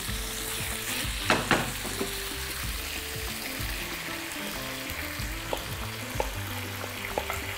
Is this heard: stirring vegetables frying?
yes